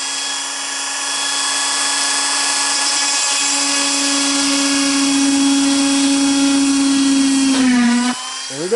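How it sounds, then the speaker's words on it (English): A cordless rotary tool whines at a high steady pitch while drilling a hole in RC airliner engine nacelle parts, loud and close, rising slightly as it bites, then spinning down abruptly. "Great cordless rotary cutter. Or drill."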